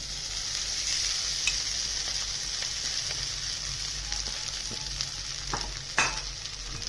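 Poha mixed with grated cucumber goes into a hot pan and fries with a steady, dense sizzle, with a few light scraping clicks of a spatula near the end, close up and without talk.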